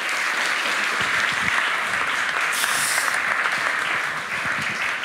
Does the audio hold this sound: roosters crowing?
no